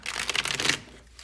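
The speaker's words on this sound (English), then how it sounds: "I'm going to shuffle one more time." A quick riffle of playing cards being shuffled, a rapid fluttering burst lasting under a second, close and fairly loud.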